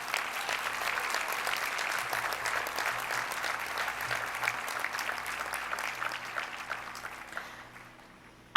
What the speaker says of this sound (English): So big round of applause to these Hall of Famers,